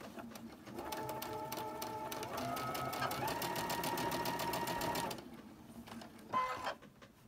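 Close, steady whirring and clattering from a sewing machine stitching pinned, layered quilt pieces for about five seconds, then stopping. A brief final burst of stitching follows.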